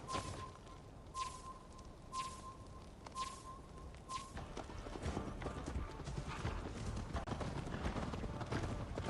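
Horse hooves clip-clop in Assassin's Creed Valhalla, a steady walking rhythm of crisp strikes under a faint repeating tone and game ambience that thickens toward the end.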